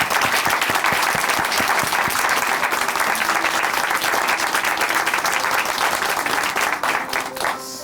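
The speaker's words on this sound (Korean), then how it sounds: "함께 박수로 응원해 드리도록 하겠습니다" A studio audience at a Korean Christian testimony broadcast applauds steadily. Dense, close clapping continues nearly unbroken for about eight seconds before starting to thin out at the end.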